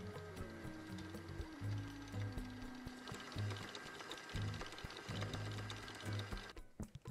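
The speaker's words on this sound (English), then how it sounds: "now we'll put the bowl onto the machine and start this mixing for 1 minute on first speed" A stand mixer on its first, slowest speed works a bowl of confectionery fondant cream in a bakery, giving a steady mechanical whir with a rhythmic low churning pulse, close and continuous for several seconds.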